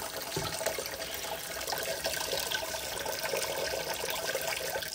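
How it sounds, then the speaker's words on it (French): Hot water poured steadily into a container to thaw frozen prey for a snake, a continuous splashing rush of liquid heard close up and alone for several seconds. "Ensuite, je viens mettre mon eau chaude."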